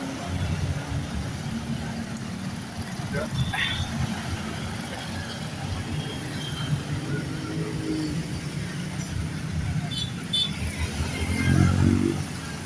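Heavy morning traffic in a jam on the streets of Tasikmalaya: a continuous mix of car and motorcycle engines idling and creeping nearby, with occasional louder passing revs toward the end.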